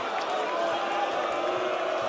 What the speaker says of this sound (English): Crowd roaring him on